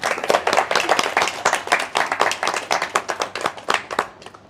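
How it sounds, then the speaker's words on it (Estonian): Audience applause at a book launch, a small group clapping in a lively, uneven rhythm with distinct individual claps, close and fairly loud, tapering off at the end. "Teeme aplausiga Maarjale."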